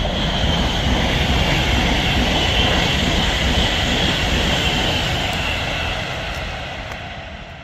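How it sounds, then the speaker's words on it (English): A class 390 Pendolino train passing through Rugby station on the West Coast Main Line, a loud continuous roar and rumble of wheels and rushing air close by, fading slightly over the last seconds. "appearing in the distance is a class 390 Pendolino"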